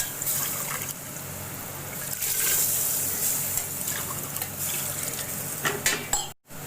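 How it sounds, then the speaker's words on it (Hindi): Mutton yakhni broth poured into a cooking pot, a steady liquid trickle and splash with light metallic clinks of the pot, close and fairly quiet, with a brief dropout near the end. "अब इसमें मैं यखनी ऐड कर दूँगी"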